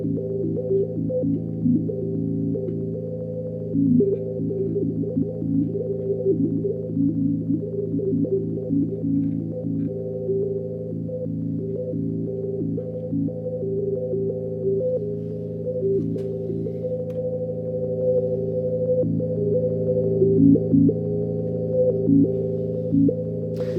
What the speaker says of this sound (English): So it can make some weird, crazy blips and bloops,